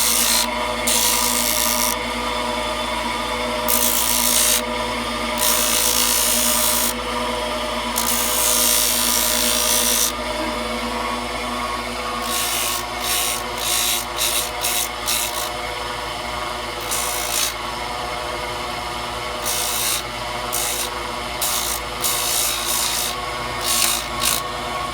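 A turned wooden piece is sanded on the lathe, giving a steady, loud, close rasping rub that runs nonstop with slight pulsing and no talking.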